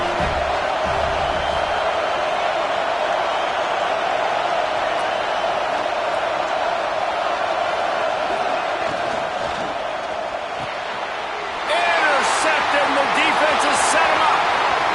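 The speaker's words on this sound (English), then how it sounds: "This crowd bringing the energy and noise early." A stadium crowd roars steadily in College Football 26 during a game against USC, a dense, loud wall of cheering that swells near the end, with no voices speaking over it.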